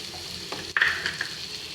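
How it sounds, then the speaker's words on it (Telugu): Carrot curry stirred lightly back and forth in a pan, giving a soft steady sizzle with a few brief scraping clicks of the spoon, close and moderately quiet, with no talking. "అటు ఇటు కొంచెం లైట్గా కలుపుతూ 2 minutes కలపాలి"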